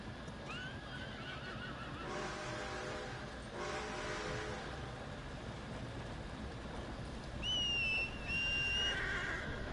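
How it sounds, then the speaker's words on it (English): Horse neighs and whinnies inside a video game, one call and then a second high, wavering neigh near the end, over a steady engine-like hum with soft hoof clip-clops between. "I'm gonna get my horse over here."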